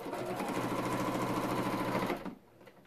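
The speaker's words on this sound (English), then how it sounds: "Then I take it to my machine," A sewing machine stitches a paper-pieced quilt block, a steady close mechanical whir with rapid needle ticks running for about two seconds before stopping.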